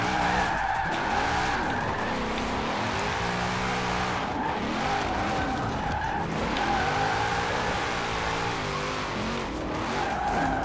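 A car drifts in Forza Horizon 4 with the Formula Drift pack, its tires squealing in long wavering screeches over a steady engine drone, the slide swelling and easing in repeated waves.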